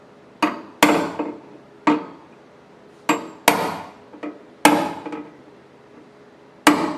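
A hammer taps on auto body filler in about nine crisp, close knocks. The strikes are irregularly spaced, some landing in quick pairs, with short gaps between them.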